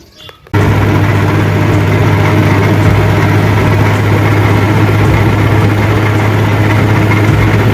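A farm tractor engine starts up and runs at a steady, loud, low rumbling idle close by, its deep even drone continuing without pause.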